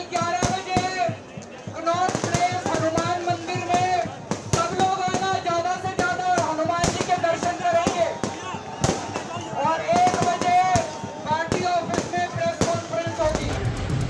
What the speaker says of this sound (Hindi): फूलों से पहले आतिशबाजी से उनका स्वागत हुआ